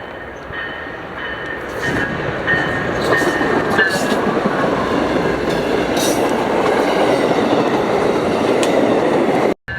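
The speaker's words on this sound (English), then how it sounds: "So here it comes with a nice zoomed in shot of it entering Lakeland Amtrak station." Amtrak Floridian passenger train pulls into Lakeland station in Florida with a loud, steady rumble of wheels, clickety-clack over rail joints and high squeals. It grows louder, then cuts off abruptly.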